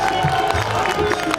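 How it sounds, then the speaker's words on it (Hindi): A crowd at a Bhojpuri stage event in Gurgaon breaks into brief, loud applause mixed with cheering, dense and continuous throughout. "एक बार इनके खातिर ताली बजाओ।"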